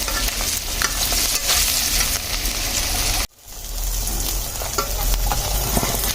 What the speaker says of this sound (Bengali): মাছগুলোকে লাল লাল করে ভেজে নিয়েছি এগুলো ভাজা হয়ে গেছে এখন নামিয়ে নেবো